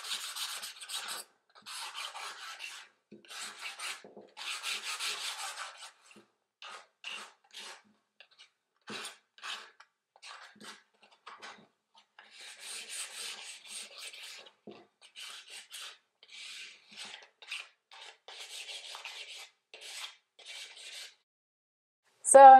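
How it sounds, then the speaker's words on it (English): Sandpaper rubs lightly over raw wood before milk paint goes on, in repeated short bursts of rasping strokes with pauses between them, close and fairly soft. "if it's just raw wood, I just give it a light sand"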